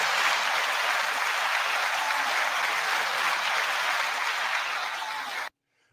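An audience applauds loudly and steadily after a rap performance, as one thick, unbroken wash of clapping that cuts off abruptly near the end.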